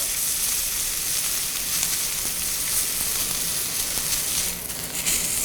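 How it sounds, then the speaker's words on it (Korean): Steak searing in a frying pan, with its fat rendering out, gives a steady, close hiss and crackle of sizzling fat. The sound runs unbroken and fairly loud with no voices. "양면에 이런 마이야르 현상이 일어났으면 옆에 부분도 구워주셔야 합니다."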